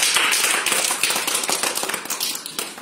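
Students clapping for a team at a school quiz event in a classroom, a quick burst of dense, uneven handclaps close by, fading slightly toward the end.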